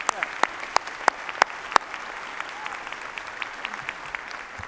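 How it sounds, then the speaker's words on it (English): Scattered clapping at a spring commencement ceremony, a few sharp, distinct claps standing out early before a thinner patter continues at moderate volume. "Can you give Matt a round of applause?"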